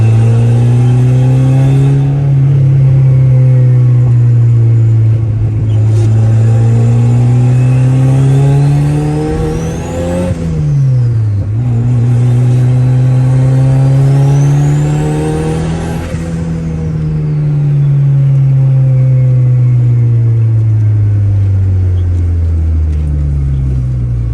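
A turbocharged Honda Civic drives and accelerates through the gears, its engine note climbing in repeated loud pulls with brief drops at shifts, a steady close cabin drone throughout, no talking.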